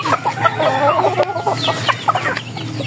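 Chickens cluck and crow close by while being fed, a busy run of overlapping calls filling the whole stretch with no talk.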